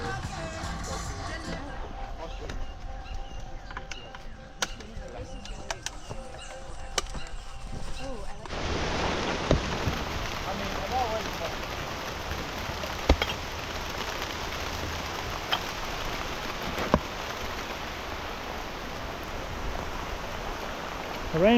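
Rain falls at an earthship building site with a ferro-concrete dome, a broad steady hiss that swells noticeably partway through and continues evenly to the end.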